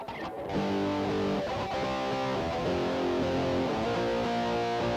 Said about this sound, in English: That's that overdriven kind of distortion sound that we associate with rock and roll.